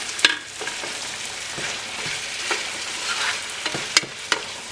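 Crushed cardamom, cloves and Ceylon cinnamon sticks sauté in a pan for a pork curry, with a soft steady sizzle broken by a few sharp stirring clinks.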